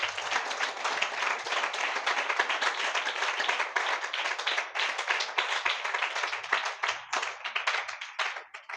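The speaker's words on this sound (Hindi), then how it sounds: "हम जोरदार तालियों से उनका स्वागत करें" An audience at a church spiritual assembly claps loudly and steadily in welcome, a close, dense burst of many hands that stays strong for several seconds before trailing off into scattered claps.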